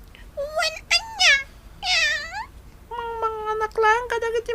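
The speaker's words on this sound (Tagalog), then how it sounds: "Meow." A cat meows several times in short, close, wavering cries with brief pauses between, over a faint steady background.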